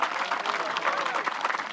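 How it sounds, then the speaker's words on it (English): Light, polite clapping from disc golf spectators at a professional tournament round, the 2024 Discraft Great Lakes Open, a brief scattered patter with commentators talking over it. "Golf clap."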